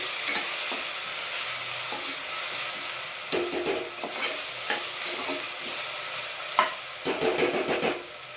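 Masala frying in a pan while being stirred for a mutton curry, giving a steady close sizzle with scraping spoon strokes that come in bursts, loudest in the second half.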